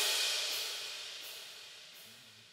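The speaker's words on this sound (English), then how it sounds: "I added in just a simple, orchestra crash." An orchestra crash sample with delay in FL Studio rings out as a bright, hissy wash that decays slowly, with faint repeating echo swells, alone without talk.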